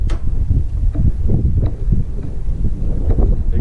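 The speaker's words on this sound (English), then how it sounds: "I know I got a south wind blowing at me, southeast wind." Cold southeast wind buffets the microphone on winter backwaters while fishing from a boat, a steady loud rumbling roar with gusty fluctuations and no speech.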